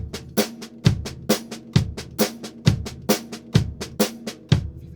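Sixteenth-note drum train beat played alone on a kit, with crisp snare or hi-hat strokes in a steady stream and regular accents falling on the "and," close and fairly loud throughout.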